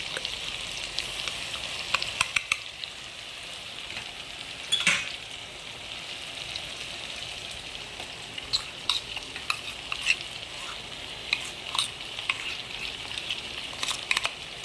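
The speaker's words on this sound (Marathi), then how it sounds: "आता ही दही याच्यात टाकून घेईन" Spoon stirring through biryani masala with yogurt in a pan at home, giving soft scraping and gentle sizzle with occasional sharp clinks against the metal, steady and close with no talking.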